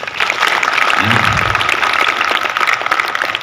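An audience at a pencak silat joint training event claps in dense, steady applause throughout, with a brief word spoken over it.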